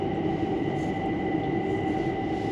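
Heathrow Terminal 5 train arriving at the platform, a steady, close rumble of rolling carriages with a sustained tonal hum, even and continuous without voices.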